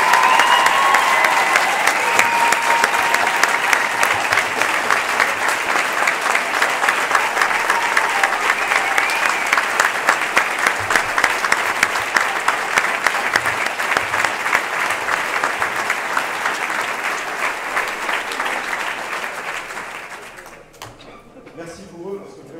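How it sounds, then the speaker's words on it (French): Ceremony audience giving a sustained ovation, dense steady applause lasting about twenty seconds before fading out. "Je crois qu'on peut faire une vraie ovation à ces jeunes"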